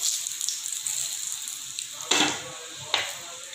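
Bay leaves and cinnamon dropped into hot oil, a continuous bright sizzle with two sharper crackling bursts near the end, close and fairly loud.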